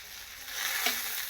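Hot oil spatters as pitha fries in a pan, a steady close hiss of sizzling broken by one sharp pop partway through.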